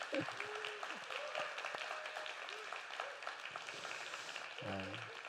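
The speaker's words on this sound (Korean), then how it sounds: "우리 찬양팀 앞에 한번 격려의 박수 한번 쳐주면 좋겠습니다" Church congregation at a Sunday worship service applauding the praise team, a moderate wash of clapping heard somewhat distant, with scattered speech-like sounds and a brief tonal voice near the end.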